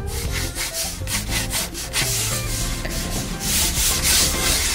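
Pencil scratches and rubs across paper while sketching a roe deer, a run of quick, rhythmic strokes close up, with a steady tonal background underneath and no talking.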